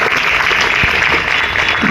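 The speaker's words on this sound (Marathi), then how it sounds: "आपण एकदा पुन्हा एकदा त्यांच्यासाठी जोरदार टाळ्या वाजूयात" An audience claps loudly for fire brigade personnel at a Bhaubeej celebration, giving a dense, sustained burst of applause that fills the whole moment with no voices on top.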